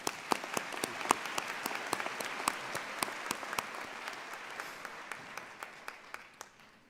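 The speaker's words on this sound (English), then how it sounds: "Please let's give them a round of applause." Audience at a college commencement ceremony gives a sustained round of applause, a fairly distant wash of clapping with a few crisp nearby claps punctuating it regularly throughout.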